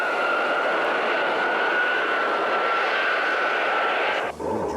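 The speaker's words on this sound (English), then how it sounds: "C'est à un ancien bombardier M4 Bison qu'est revenu l'honneur de convoyer" A Myasishchev M4 Bison bomber flies while carrying the Buran shuttle, a steady loud jet roar with a constant whine that cuts off abruptly near the end.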